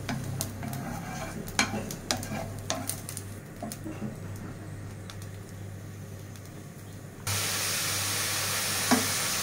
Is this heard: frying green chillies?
yes